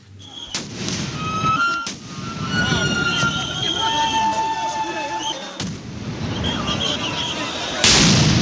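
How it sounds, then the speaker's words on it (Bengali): Police sound grenades fired to disperse protesting government employees, several sharp, loud blasts at about half a second, two seconds, five and a half seconds and near the end, with a crowd's shouting and voices filling the gaps between them. "একের পর এক সাউন্ড গ্রেনেড ছোড়া হয় সরকারি কর্মচারীদের ছত্রভঙ্গ করতে"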